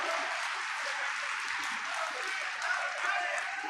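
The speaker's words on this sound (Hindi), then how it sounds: "जोरदार तालियां बजा करके सांसद महोदय का स्वागत अभिनंदन करें" Steady, dense applause from a crowd welcoming a Member of Parliament at a panchayati raj representatives' honour ceremony in Tosham, Bhiwani, sustained evenly for the whole stretch with a faint murmur of voices beneath.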